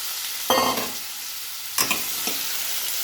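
Chopped knol khol is stirred in a hot pan as it sautés for a Tamil kurma, with a steady sizzle throughout and two sharper scraping stirs of the spoon, close by, with no talk.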